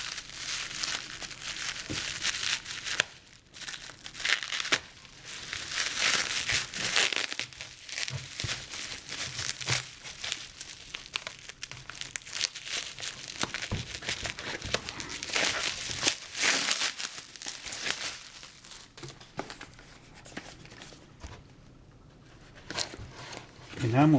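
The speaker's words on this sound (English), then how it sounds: "And one more thing with a massive amount of packing tape." Packing tape being crumpled and torn off a package makes irregular crinkling and ripping noises that come and go in bursts, with a voice present at times.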